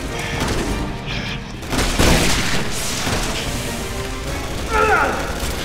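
Shotgun blasts in the co-op shooter Resident Evil 6 during a boat battle: several heavy booming shots with crashing impacts rise over dense game noise and music, spaced irregularly across the stretch.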